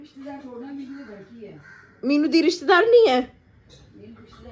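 A crow caws loudly in a short burst of a few harsh calls near the middle, with people talking before and after it.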